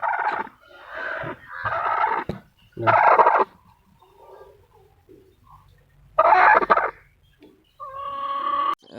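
Chickens cluck in several loud bursts close by, separated by brief pauses with quieter clucks in between.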